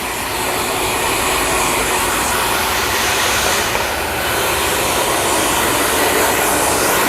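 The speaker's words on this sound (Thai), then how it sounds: "เราก็จะ เป่าแห้งแล้วก็หวีให้เข้าทรงให้เรียบร้อย" A hair dryer blow-dries and styles a freshly cut two-block undercut in a barbershop. It makes a loud, continuous airflow roar close to the listener, with no talking throughout.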